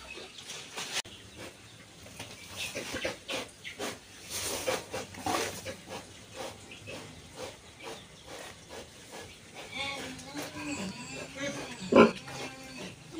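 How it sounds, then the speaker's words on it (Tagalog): An overdue sow in labor on a farm pants in quick, heavy breaths mixed with hissy snorts and grunts, close and steady throughout, with a louder burst near the end. "Nahingal yung ating inahin, guys."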